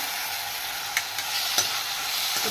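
Tomato being stir-fried in a pan for homemade noodles, with a steady close sizzle broken by a few light spatula taps; no speech.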